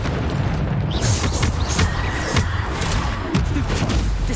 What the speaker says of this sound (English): 번개.